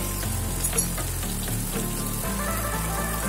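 Steady sizzling and frying of onions and tomatoes sautéing in a pan, a continuous crackle with occasional stirring clinks, no voices.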